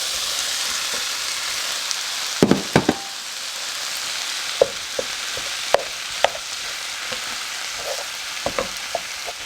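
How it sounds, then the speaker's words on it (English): A pound of ground beef sizzles in a pan with a steady hiss and scattered sharp pops and spatula taps up close, no talking. "Now we're going to add in our 1 pound of ground beef."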